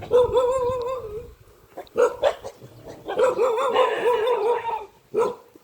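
A dog barks and yelps in short, whiny bursts, several in a row with brief pauses, fairly close, in the old city of Sukhothai, Thailand.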